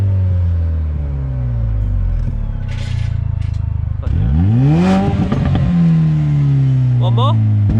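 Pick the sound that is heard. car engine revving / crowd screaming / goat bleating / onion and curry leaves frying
car engine revving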